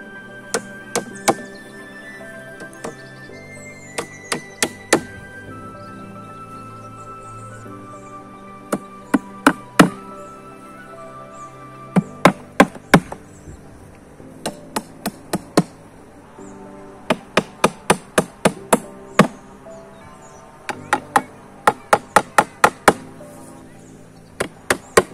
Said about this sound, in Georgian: ეხლა მე აი ამ ბოლო ჩარჩოს აქ და აქ დავაჭედებ ლურსმნებს.